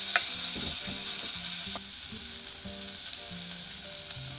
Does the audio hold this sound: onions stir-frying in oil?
yes